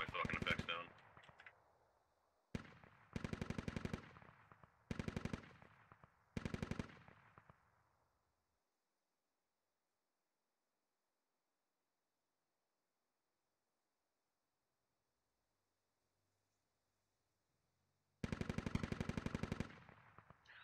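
Bursts of automatic gunfire in the military shooter Squad, several rapid volleys in the first seven seconds, then a long silence and one more loud burst near the end.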